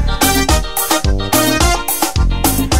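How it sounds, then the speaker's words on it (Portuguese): Brazilian band music from Maranhão plays loud and dense, with a bright guitarrinha riff of repeated rhythmic phrases over bass and percussion and no voices. "Esse é o som da guitarrinha."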